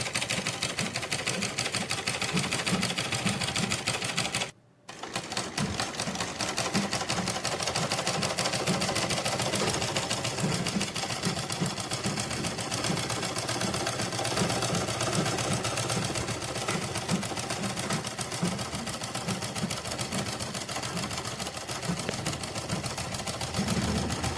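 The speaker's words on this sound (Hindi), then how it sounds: "सलवार की साइड में हम सिलाई लगाएंगे" A sewing machine runs steadily, stitching the side seam of a Patiala salwar, with a dense mechanical whir that keeps going throughout apart from one brief pause near the start.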